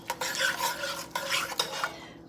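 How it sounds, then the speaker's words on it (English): A stainless steel spoon stirs BBQ sauce in a pot before pork goes in, scraping and clinking against the metal in quick repeated strokes with brief pauses, close and fairly loud. "because this is a stainless steel spoon, it's going to make a lot of noise"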